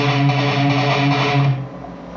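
Distorted electric guitar chugging a classic gallop rhythm, dense and loud with chorus-like shimmer, the repeating figure ringing out and fading at the end.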